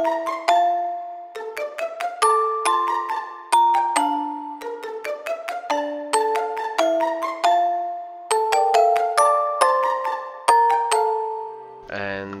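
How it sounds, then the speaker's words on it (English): Layered marimba and pizzicato strings with low-cut, low-mid and high EQ boosts and reverb, plucking a bright repeating melodic pattern of short, decaying notes in steady phrases, moderately loud, ending with a brief sustained tone. "it's a marimba and pizzicato on the same expand thing with this EQ"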